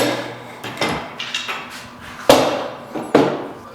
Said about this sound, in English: To glue our legs, we're first going to lay out a series of clamps.